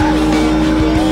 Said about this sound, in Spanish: Vean, estamos chocando con el auto de color celeste.